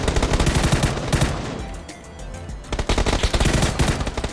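Loud automatic gunfire in PUBG: rapid, close bursts of shots, a brief lull in the middle, then another quick volley until the end.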